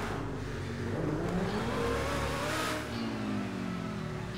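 A T20 supercar in GTA Online revs hard, its engine note rising and falling in loud, continuous acceleration with no voices over it.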